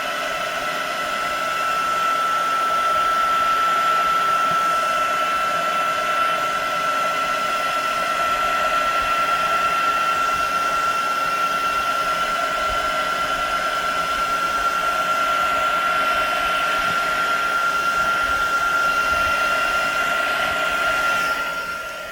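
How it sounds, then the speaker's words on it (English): A handheld heat tool blows hot air to dry ink on a card during a papercraft class, a steady loud whir with a fixed motor whine that runs unbroken for over twenty seconds, close and alone. "so I'm going to bring in my heat tool, and I'm just going to put it on one"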